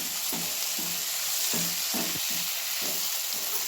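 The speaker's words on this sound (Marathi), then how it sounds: "आता ह्यातच आपण ही भाजलेली भेंडी वतूया बघा भेंडी वतल्या आता मिक्स करून घेऊ" Fried okra sizzles steadily in a pan while a spoon scrapes and stirs in about eight regular strokes, close and continuous with no talk.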